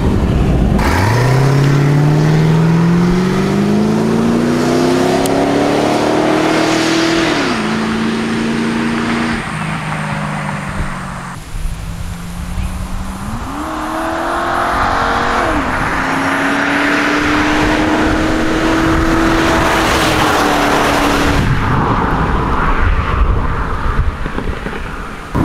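A 2001 Ford Fairlane AU is heard from outside as its engine revs up from idle several times, rising and falling in pitch with crackling blips between rises, fairly loud and close throughout with no talking.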